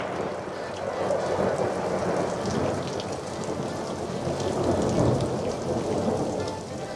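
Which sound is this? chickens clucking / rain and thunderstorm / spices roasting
rain and thunderstorm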